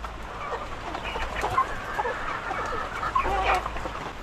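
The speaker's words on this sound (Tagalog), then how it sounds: "Binigyan ko na sila ng pagkain nila. Ayan, ang ating mga manok na decal brown." Decal brown chickens cluck and chatter as they eat from fresh feed in their coop, giving soft irregular calls at close range.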